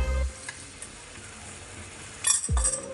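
Garam masala stirred into boiling Kolhapuri chicken curry in a pot, a soft bubbling sizzle with brief metallic clinks and louder scraping bursts of the spoon near the start and end.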